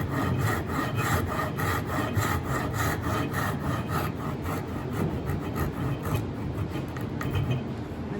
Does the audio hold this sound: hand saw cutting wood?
yes